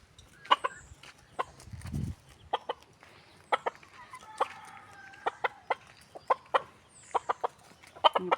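Roosters and a hen cluck at feeding time, making short, scattered bursts of clucks and squawks at close range against a quiet background.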